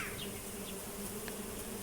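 Bees buzz steadily in The Smoke Room game, a low droning hum under a continuous insect whine with a few faint higher chirps, no talking.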